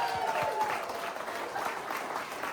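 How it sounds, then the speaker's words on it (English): Wedding guests break into applause during the ceremony, a steady round of clapping from the crowd lasting a couple of seconds with faint murmurs beneath. "Big round of applause."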